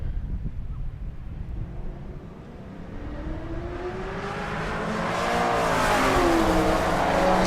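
A 1969 Chevrolet Camaro launches down a drag strip at a race week event, its engine note rising steadily in pitch and volume as it accelerates away, with wind rumble beneath.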